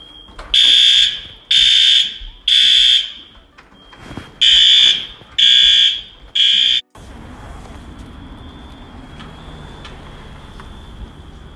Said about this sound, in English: the fire alarm in all four buildings of my Airbnb